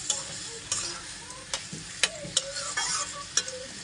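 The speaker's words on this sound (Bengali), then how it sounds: "সুন্দর করে ভাজা ভাজা করে রান্না করে নেব" Potatoes and meat sizzle steadily in a pan, with close, irregular clicks and scrapes as they are stirred; no one speaks.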